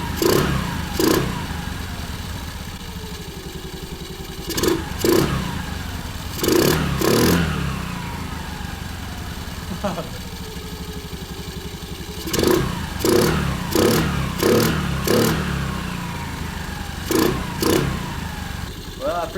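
A 2022 Honda Navi with an intake mod runs near, its small engine idling with a steady putter and breaking into repeated sharp revs and clattery bursts in clusters.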